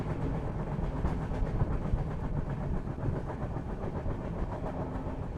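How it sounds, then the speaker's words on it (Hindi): Passenger train on the Naharlagun to Tinsukia route hauled by a WDG4 diesel locomotive, heard from inside as a steady loud rumble with a rhythmic clickety-clack of wheels, monsoon journey, no talking. "इस जर्नी की पहली डीजल लोकोमोटिव में जर्नी स्टार्ट हो गई है।"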